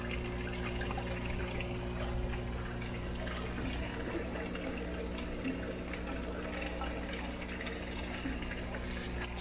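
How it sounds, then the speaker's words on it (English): Water is scooped from a fish tank in a steady, continuous slosh and trickle, close by, with no talking. "Scoop up some water."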